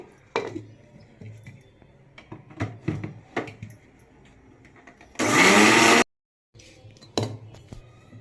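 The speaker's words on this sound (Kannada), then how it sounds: "ಮಿಕ್ಸಿಯಲ್ಲಿ ಪೌಡ್ರ್ ಆದಮೇಲೆ ನಾವು ಅಳಸಿ ತಗೊಳ್ಳೋಣ ಹಾಗೆ ಮಿಕ್ಸಿ ಹಾಕೊಳ್ಳೋಣ" A kitchen mixer grinder powdering flattened rice roars in one loud burst of under a second. Light clinks and knocks come before it, and more handling sounds follow.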